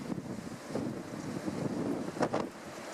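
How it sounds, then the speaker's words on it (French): Strong storm wind by the sea buffets the microphone in a continuous roaring rush, with gusty swells and faint water sounds underneath. "il y a tellement de vent que j'arrive pas trop"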